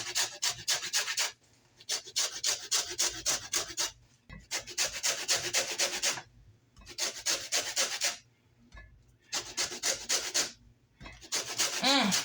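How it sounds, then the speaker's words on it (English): A lemon rasped against a grater in rhythmic bursts of scraping strokes, separated by short pauses, close and moderately loud. "I'm taking my nifty grater here."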